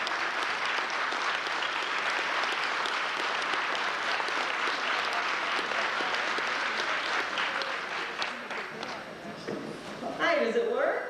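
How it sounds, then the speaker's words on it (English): A convention audience at a 1988 Star Trek event gives the guest authors a warm, steady round of applause. The dense clapping fills the room for several seconds, then thins out as a voice begins speaking near the end. "Let's give them a nice round of applause."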